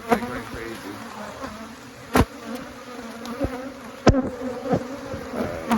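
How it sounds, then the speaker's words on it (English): Agitated honeybees swarm and buzz around a hive that was opened without smoke, a dense steady drone with a few sharp louder thumps or knocks standing out. "The reason why the bees are acting like that is because I never smoked them."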